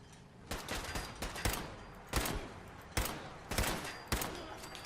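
Gunfire in Fallout 4 as a player shoots through bars: a string of about eight sharp, punchy shots in an uneven rhythm, fairly close and clear, with no talk.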